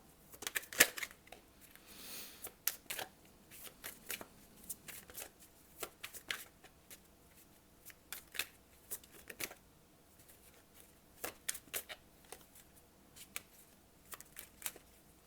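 Tarot cards are shuffled in scattered bursts of soft riffling and slapping at close range, quiet and irregular, with brief pauses between handfuls.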